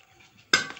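A spoon stirs butter and chocolate in a pan as they melt for a sponge-flour cake, making a single sudden scrape and clatter after a quiet moment.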